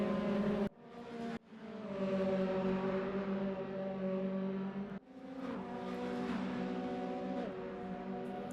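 Race car engines howl in a sim racing game at Sonoma, several cars close together in a pack, with sustained revving tones that shift pitch, broken by brief cuts and gear changes.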